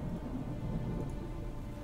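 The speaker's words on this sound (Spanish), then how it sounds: "Ahora llueve, qué guapo." Steady rain falls in the Viking real-time strategy game Frozenheim, a continuous soft wash of drops heard close and alone, without speech.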